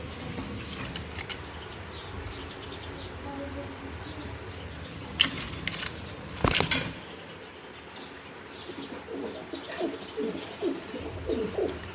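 Fancy racer pigeons held for sale coo softly and repeatedly nearby over a faint insect buzz, with a couple of brief handling thumps and rustles.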